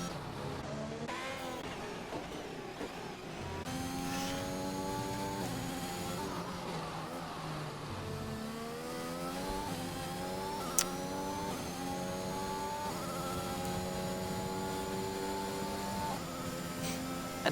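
Multiple F1 cars from a video game at the Brazilian Grand Prix howl continuously as they run side by side, their engines climbing and dropping through gear changes, loud and sustained. A brief sharp click stands out midway.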